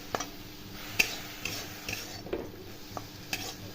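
A spoon stirs a coconut and sugar modak filling in a pan, clicking and scraping in light, irregular taps with a faint sizzle underneath, close by and fairly quiet, with no speech.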